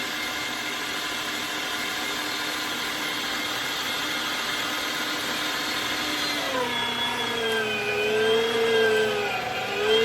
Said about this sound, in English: I'll continue to grind up the meat.